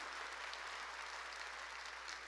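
Faint, steady applause from a church congregation during a sermon, a thin continuous patter of clapping heard from a distance, with no voices over it.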